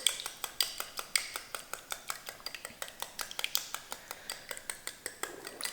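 A fork beats a single egg in a bowl for crab cakes, producing quick rhythmic clinks of metal on the dish, about four to five strokes a second, close up and steady with no talking.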